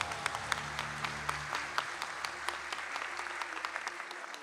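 An audience at a Buddhist history quiz competition applauds a young girl contestant with a dense, sustained patter of many hands clapping, moderately close and even throughout, with a few sharper individual claps standing out.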